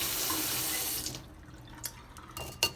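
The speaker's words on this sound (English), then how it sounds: "Let me give this a quick rinse." A container is rinsed under running tap water: a steady rush of water for about a second, then the flow stops, leaving faint drips and a couple of sharp splashes.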